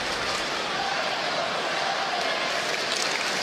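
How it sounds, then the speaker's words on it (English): A steady, broad roar from the crowd in a basketball arena during a Cleveland Cavaliers versus Boston Celtics NBA game holds at an even level, distant and continuous with no distinct claps. "You hear the crowd."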